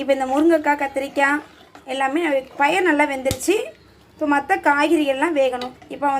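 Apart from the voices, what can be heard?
No distinct noise like a dog, phone or traffic.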